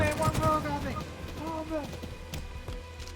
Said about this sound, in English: now I'm just throwing in some grenades and hitting them from perpendicular angles